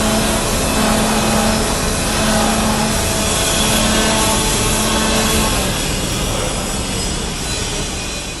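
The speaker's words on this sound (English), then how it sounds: "Sanding process is carried out to remove any protective coating, paint and smoothness" Sanding an aluminum sign board, a loud continuous abrasive rasping roar with a faint underlying motor tone, steady throughout and easing slightly at the end.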